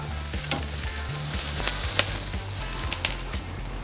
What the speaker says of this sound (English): That sizzle is so great.